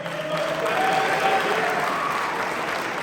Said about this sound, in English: All right, clap it up for yourselves.